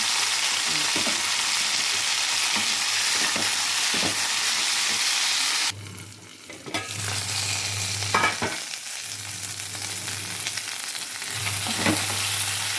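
Ivy gourd pieces fry in a hot pan with a dense, steady sizzle. Midway the hiss briefly drops as the pieces go in, then returns with intermittent clatters of stirring.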